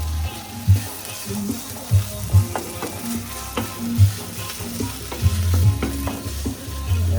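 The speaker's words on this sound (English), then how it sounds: "let's give that a good mix with all the sardines in there." Sardines in a red sauce are stirred in a sizzling pan, with repeated scraping and knocking strokes of the spoon over a steady, close frying crackle.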